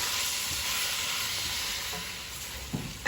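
Tripe sautés in a pan with a continuous soft hiss of frying, moderately quiet and even, broken near the end by a couple of brief stirring scrapes.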